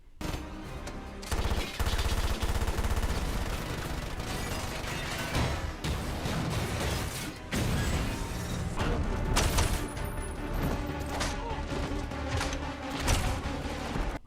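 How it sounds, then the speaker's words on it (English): Gunfire from a Batman v Superman film scene, dense rapid bursts of automatic fire and shots layered over a loud action soundtrack, continuous and intense with brief drops between volleys. "when you make Batman pull out a gun and shoot people"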